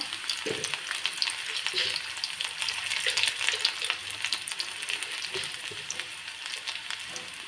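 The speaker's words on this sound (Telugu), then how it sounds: "వేగిన తర్వాత ఇందులో ముందుగా ఎండుమిర్చి అండ్ వెల్లుల్లిపాయ" Dried red chillies and garlic crackle and sizzle in hot oil as a tempering for gongura dal, a steady close frying hiss with occasional stirring scrapes.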